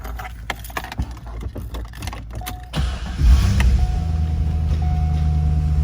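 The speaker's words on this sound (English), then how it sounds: "So I'm just going to climb in and we'll fire this one up." A silver 2000 Chevrolet Corvette convertible with a six-speed manual sits quiet through a few clicks and rattles, then the starter cranks and the engine catches and settles into a loud, steady idle.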